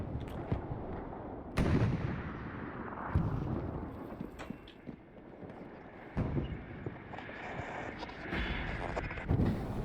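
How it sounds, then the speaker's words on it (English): Allied bombing run in Hell Let Loose, a series of heavy explosions and artillery-like blasts at irregular intervals, some near and sharp, others distant rumbles, with no talk over them. "Here comes the bombing run. Allied bombing run"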